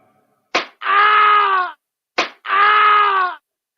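A slap sound effect from a sound button fires twice, each time a sharp smack followed by a sustained, tonal cry lasting about a second, loud and isolated.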